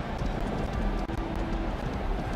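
A horse named Black Beauty gallops in the horse-racing video game Rival Stars Horse Racing, with a steady, fast, muffled hoofbeat rhythm under a dense, noisy background.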